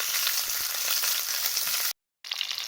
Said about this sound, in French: je suis en train de le faire sauter à feu moyen